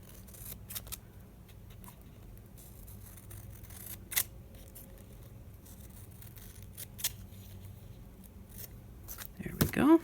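Scissors snip through paper for a lap book, a few short crisp cuts scattered across a quiet tabletop scene, with soft handling rustles and a louder paper crinkle at the end.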